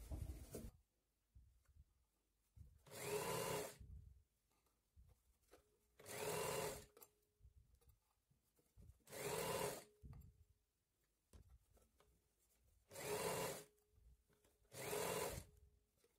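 A sewing machine runs in five short bursts as it stitches a folded sleeve hem around the armhole, each burst a steady whir separated by quiet pauses, close and fairly faint.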